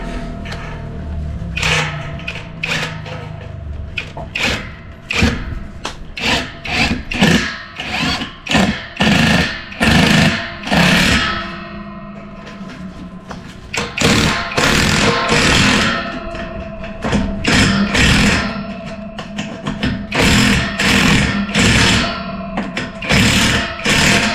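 A power drill boring a hole in wood and then driving a long screw into it, heard as repeated short bursts of whirring, stopping and starting in an irregular rhythm, loud and close.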